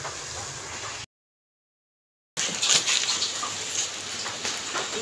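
Rain falls steadily as a soft, even hiss with patters. It breaks off into a brief silence, then returns slightly louder with scattered drips.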